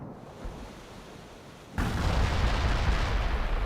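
Heavy artillery barrage in World in Conflict, a modern-war strategy game: faint rumbling background, then a loud broadband roar of firing and blasts that keeps going without any talk.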